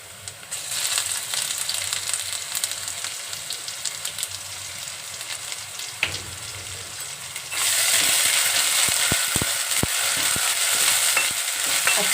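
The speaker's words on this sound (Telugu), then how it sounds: "అల్లం పేస్ట్ వేయించుకోవాలండి" Ginger paste frying with onions in a pan, a steady close sizzle with occasional stirring scrapes that grows louder and denser partway through, with no talking.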